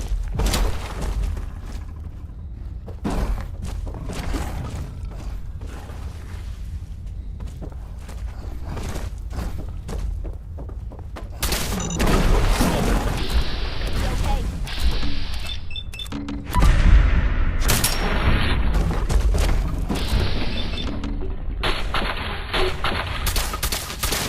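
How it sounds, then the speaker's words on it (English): Frag grenades explode in the video game Fallout 4 amid a long stretch of dense gunfire bursts, with heavy booms and thuds that grow louder partway through. "Let's throw these frag grenades."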